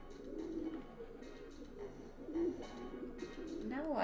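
A bird coos in the video game Jazzpunk, soft repeated calls heard over a steady game background with some talk nearby.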